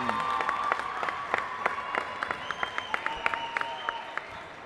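Scattered clapping from a modest crowd in a school gym during a varsity boys basketball game, individual claps standing out sharply over a background hum and a faint tone.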